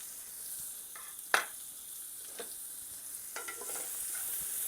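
Shallots frying in a pan for steak Diane, a steady high sizzle with a few scraping stirs and a sharp clink, no talking.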